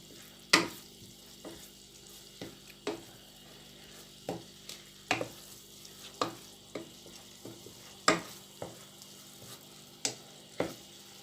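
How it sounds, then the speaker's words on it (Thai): Minced pork larb for a northern Thai dish being stirred after squeezed lime juice goes in, giving a series of sharp scraping and clacking strokes at an irregular pace, close up and alone. "ยายปาก็จะคนนะคะ คนให้มะนาวที่เราบีบลงไปนะให้เข้ากันเนาะ"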